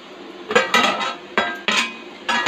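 Semiya upma being stirred in a pan, with a spoon scraping and clanking against the metal in five or six loud, uneven strokes, close up and with no talk.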